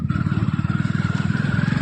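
A motorcycle carrying five riders putters with a fast, even pulsing throb, close by and steady, with faint rattling from the ride.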